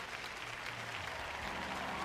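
A church audience applauds during a sermon by Joyce Meyer, a steady wash of clapping hands that fills the short moment evenly at a moderate level, with no distinct voices standing out.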